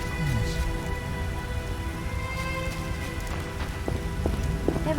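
Rain falling in the video game The Witcher, an even wash of drops hitting the ground with a low ambient drone and a few faint knocks near the end.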